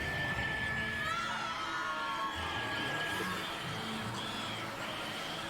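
Shrill, sustained mandrake screams from the video game Hogwarts Legacy, a loud, continuous wailing chorus that fills the whole stretch with no pauses.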